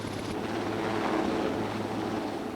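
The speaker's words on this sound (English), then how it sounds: "When a helicopter flies through the air" A helicopter flies with a steady low rotor drone and broad engine rumble, fairly loud and continuous, with a brief high tone at the start and no talk.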